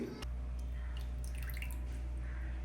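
Steady splashing and dripping water runs continuously as water is drained off salted raw chicken pieces in a kitchen, fairly close and uninterrupted.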